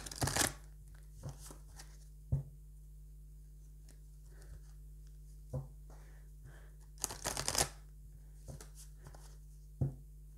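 A deck of oracle cards is shuffled and cut by hand, giving a few short, sparse riffles and taps close by over a quiet background hum, with one longer burst of shuffling near the end.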